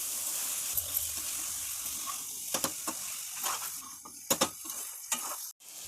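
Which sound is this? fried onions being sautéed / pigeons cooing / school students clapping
fried onions being sautéed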